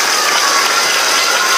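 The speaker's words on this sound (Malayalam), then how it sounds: "നല്ല പോലെ കൈയടിക്കണം കേട്ടോ, നല്ല രീതിയിൽ കൈയടിക്കണം" School students at a reading week event applauding together, a dense, loud burst of many hands clapping that lasts the whole moment without any talk.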